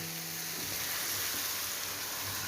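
Potato and soya chunks hit a hot, oily spice paste, setting off a loud, steady frying sizzle that hisses evenly throughout with no talking.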